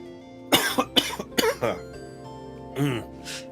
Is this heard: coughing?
yes